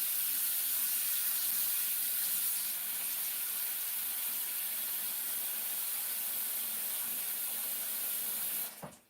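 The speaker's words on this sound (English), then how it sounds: "I want to run that black ink out and fill my sink up with some fresh water." Tap water runs steadily into a sink being refilled with fresh water after black ink is rinsed out, a constant hissing rush that holds for most of the stretch before cutting off abruptly near the end.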